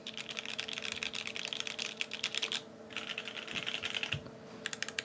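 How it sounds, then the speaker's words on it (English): Steady typing on a Volcano 660 mechanical keyboard, a 66-key board, with dense rapid clicks and clacks close up, a brief pause near the middle, then typing resumes. "when I'm typing normally"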